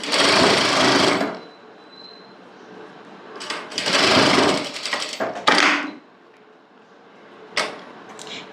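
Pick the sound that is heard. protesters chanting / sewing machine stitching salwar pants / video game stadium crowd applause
sewing machine stitching salwar pants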